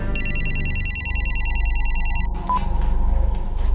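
A telephone bell rings loudly in a steady repeating trill for about two seconds over a low background rumble, then stops.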